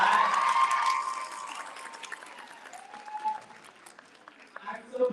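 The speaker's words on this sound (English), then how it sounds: "Can we give a round of applause for that?" High school graduation crowd giving a round of applause, moderate clapping with a few cheers that fades into sparse claps and murmuring voices.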